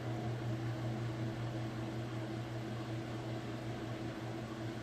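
A Kenmore washing machine spins fast, giving off a steady loud hum with a low droning tone and constant whirring noise, unbroken and free of speech.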